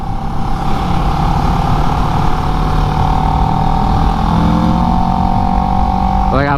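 A motorcycle engine roaring loud and close at high revs, a sustained steady drone that climbs slightly in pitch toward the end, with no voices.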